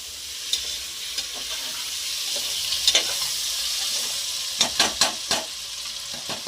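Chopped tomatoes sizzle steadily in hot oil for a veg biryani, with a few sharp clinks of a stirring spoon against the pan rising above the constant frying hiss.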